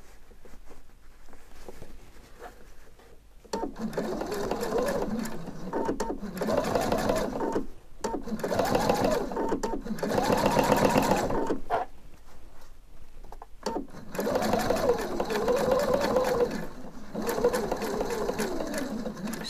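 Sewing machine stitching a stand collar runs in long steady whirring bursts separated by short pauses, close and fairly loud, with no talk over it.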